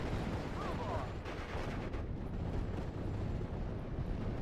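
Battlefield gunfire among troops in Steel Division Normandy 44, a US campaign mission in Normandy hedgerows, rumbling as a dense, continuous din of shots and blasts with no clear separation between them.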